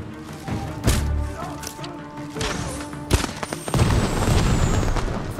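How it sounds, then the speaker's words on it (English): Fireworks bursting in the video game Ghost of Tsushima, a series of booming thuds and crackling pops over a dense, busy game soundscape, one sharp bang standing out near the middle. "Fireworks!"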